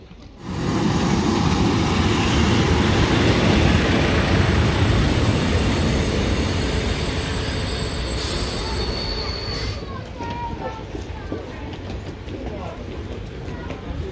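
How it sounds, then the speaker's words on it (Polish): A PKP InterCity TLK passenger train pulls into a station, its loud broadband rumble rising sharply and holding steady, with wheel squeal and a brief high tone before it fades somewhat toward the end. "No i jedzie właśnie pociąg, którym będziemy wracać do Katowic."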